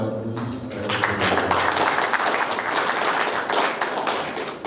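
An audience at a training workshop for religious leaders bursts into applause, a dense, sustained patter of many hands clapping that swells quickly and holds strong throughout, with some voices mixed in.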